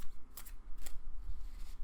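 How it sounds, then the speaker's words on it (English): Tarot cards shuffled by hand, two quick crisp riffling bursts close by, with soft handling rustles between them. "I don't really know how to grab them and shuffle them like I'm used to"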